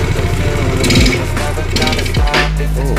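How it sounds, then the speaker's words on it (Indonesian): Yamaha Mio motorcycle fitted with a PE28 carburetor, its single-cylinder engine running near at a rough, uneven idle with loud mechanical clatter and brief revving swells. "Oke, motor hidup ya."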